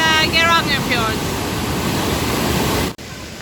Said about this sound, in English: This is Bergedammen, and it's a really nice small waterfalls